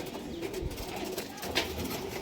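Racing pigeons with match results in a loft coo softly and close by, low murmuring calls with a brief rustle or flap midway.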